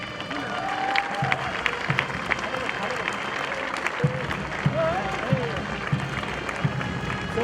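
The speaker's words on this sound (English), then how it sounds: "A huge round of applause for our chief guest." Audience at a summit inauguration ceremony claps for the chief guest after the torch handover, a sustained crowd applause with scattered louder claps, some murmuring and a brief voice in the room under it.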